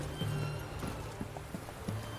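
Horse hooves clip-clop in The Witcher 3 video game, a quick run of close, moderately loud hoof strikes, with a brief whinny-like tone near the start.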